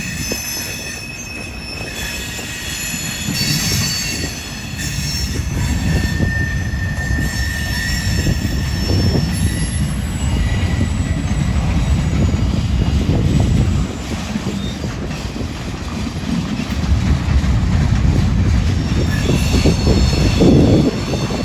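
A freight train of boxcars rolls past steadily in Decatur, Alabama, wheels clattering and rumbling with high metallic squeals drifting over the heavy continuous roar.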